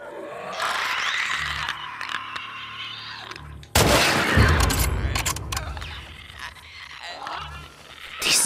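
Loud bursts of gunfire in The Last of Us Part II, with a sharp blast partway through followed by crackling reports and game ambience, up close.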